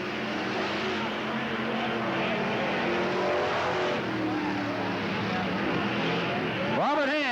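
Race cars roar around the dirt oval at Cottage Grove Speedway in a 1991 battle for the lead, a dense continuous engine drone with a sharp rising whine of a car passing close near the end, under a commentator's voice.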